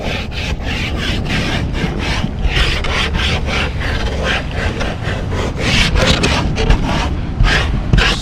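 Sticky wax is rubbed hard onto a surfboard in quick, rough back-and-forth strokes, a close, continuous scraping rasp with no talking.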